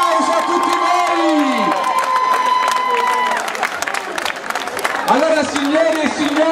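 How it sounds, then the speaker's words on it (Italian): Guests at a gala dinner on Via Palermo clapping and cheering, loud and lively crowd noise with voices mixed in throughout and a sustained tone in the first half. "Un applauso a tutti voi."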